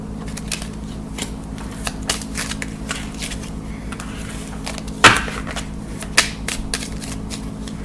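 Tarot cards being shuffled up close, a run of soft riffling flicks with one sharp snap of the deck partway through, heard alone against a steady low hum.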